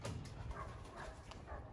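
A dog lets out faint whimpers and small yips, close by and soft, during outdoor exercise on a training track, with low rustling and handling noise around it.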